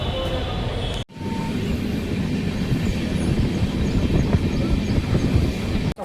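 A Bangalore metro train rumbles through a station, with a loud, steady roar of wheels and carriages close by. The rumble continues across the whole stretch, with brief breaks at the start and end.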